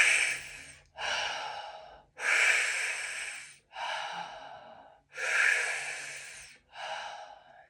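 Slow, deep breathing exercise through mouth and nose: six loud, airy breaths alternating in and out, each lasting about a second, close and with no talking.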